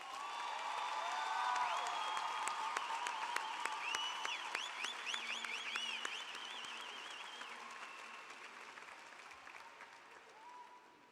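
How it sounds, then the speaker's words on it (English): Large commencement audience at Medgar Evers College applauding, a dense, sustained wash of clapping with scattered cheers and whoops, steady for about eleven seconds and easing slightly toward the end. "Give him one more round of applause."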